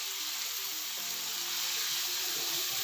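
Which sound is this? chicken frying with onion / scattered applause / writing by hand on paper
chicken frying with onion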